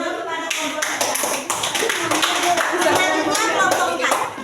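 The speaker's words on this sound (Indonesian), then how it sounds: "berikan tepuk tangan kepada kelompok 3" Loud, dense classroom applause for a student presentation group, sustained clapping from many hands close by, with a faint dip midway.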